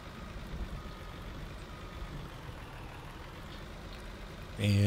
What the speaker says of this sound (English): We're going to park our little truck here.